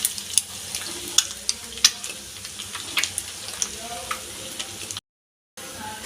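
Finely chopped ginger, garlic and green chillies sizzle in hot oil left from frying egg for chicken fried rice, a steady close crackle broken by sharp clicks of stirring, then a brief moment of silence near the end.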